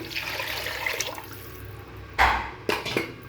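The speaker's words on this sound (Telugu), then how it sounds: "ఇప్పుడు వాటర్ పోసుకోవాలండి." Water pours into a cooking pot for cashew biryani, a steady splash and trickle with brief louder gushes near the end, close and moderately loud with no talking.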